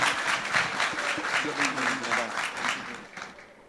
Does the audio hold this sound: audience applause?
yes